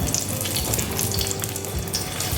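Stuffed parwal drop into hot oil and fry with a dense, continuous sizzle and crackle, loud and close, steady for the whole moment with no voices.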